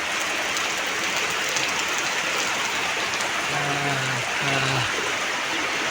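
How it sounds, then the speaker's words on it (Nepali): Heavy rain falls steadily as a dense, loud hiss throughout, with a brief low droning tone rising in the background toward the end. "पानी चाहिँ एकदम डरलाग्दो परेको छ देख्न सक्नुहुन्छ हो"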